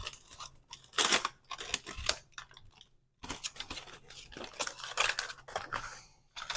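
Foil crinkles and crunches loudly up close as smoked ribs just taken off a gas grill are unwrapped, in irregular bursts with one short pause.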